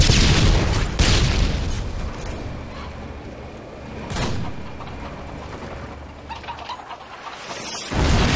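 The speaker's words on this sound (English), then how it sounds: "tossing stun grenade." A stun grenade goes off in Call of Duty: Modern Warfare 2 with a heavy boom, then a long dull ringing wash, a second sharp blast, and another thump at the end.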